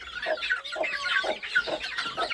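Backyard chickens and chicks cluck steadily in a close, busy flock, overlapping calls rising and falling in quick bursts with no talking over them.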